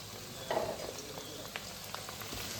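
Green chillies and curry leaves sauté in a pan for lime pickle, a soft steady sizzle with a few brief louder crackles, close by and moderately quiet.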